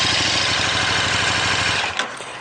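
A 2014 KTM 1290 Super Duke R motorcycle engine runs close and loud with a steady pulsing throb for about two seconds, then drops off abruptly as a brief blip ends it.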